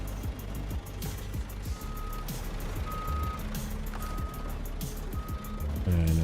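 A truck in the SnowRunner video game backs up with steady, evenly spaced reversing beeps over a low rumbling engine, ending in a hiss of air brakes.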